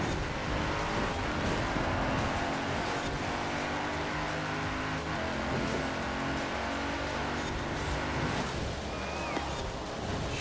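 Mercedes-Benz AMG Hammer Coupe racing in Forza Horizon 4, its engine roaring and revving continuously at high pitch, loud and close with shifting tones.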